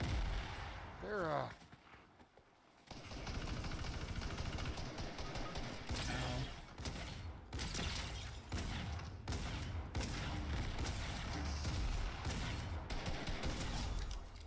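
Repeated shotgun blasts and other gunfire in the battle royale game Fortnite boom in rapid volleys, loud and continuous for most of the stretch, with occasional voices under the shooting.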